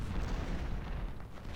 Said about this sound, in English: These guys coming under heavy fire